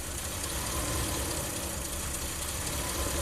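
A Ram camper van engine idles near and steady after a hot soak, struggling to hold its idle speed, a low rumbling drone with a rough, slightly knocking vibration throughout and no talk.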